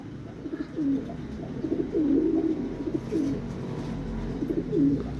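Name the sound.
racing pigeon cooing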